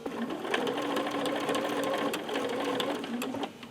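Sewing machine stitching quilt binding, a steady rapid needle rhythm running evenly and close for a few seconds before stopping, with no talking.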